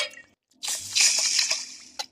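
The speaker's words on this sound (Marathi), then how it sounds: "2 पाण्यानं धुते मी." Starchy ration rice being rubbed and rinsed by hand in water, giving a short burst of wet swishing and dripping sounds after a brief quiet pause.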